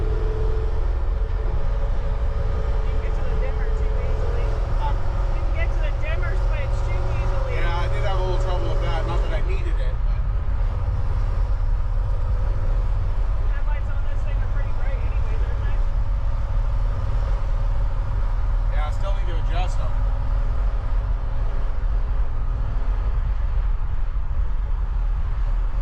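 A 1959 Chevrolet Apache truck drives along with a steady engine rumble and road noise throughout, while people talk in the cab over it.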